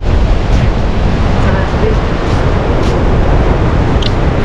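Sea waves wash onto a beach in South Goa, a loud continuous roar of surf mixed with wind buffeting, with no clear breaks between the waves.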